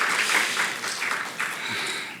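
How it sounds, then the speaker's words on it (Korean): Church youth education meeting audience giving a short round of applause, a brief soft wash of clapping from a small group, fairly even and faint throughout. "먼저는 서로에게 박수를 한번 보내면 좋겠습니다"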